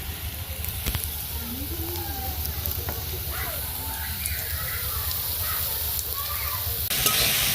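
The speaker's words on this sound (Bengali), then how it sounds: "গরম গরম মসমসা শাকের বড়া, শাকের বড়া, পেঁয়াজু, বেগুনি, এই যে সব অনেক চপ ভাজছি" Hot oil sizzles and hisses steadily as fritters of greens, onion and aubergine fry, with occasional stirring clatter and a person talking over the cooking.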